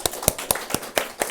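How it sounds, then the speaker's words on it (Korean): A church congregation at a Sunday service claps in a steady rhythm, about six distinct sharp claps spaced evenly and close by, with no talk. "우리 하나님께 감사와 영광의 박수 드리겠습니다."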